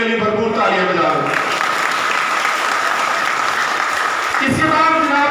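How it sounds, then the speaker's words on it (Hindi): An audience at an award distribution ceremony marking 14 August applauds loudly, continuous clapping across the clip, with a voice speaking over it at the start and again at the end. "उनके लिए भरपूर तालियां बजा दें"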